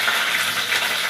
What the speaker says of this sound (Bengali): এতে নিম পাতাটা প্রথম দিয়ে দিলাম, একদম কচি নিম পাতাটা একটু হালকা ভেজে তুলে রেখে দেবো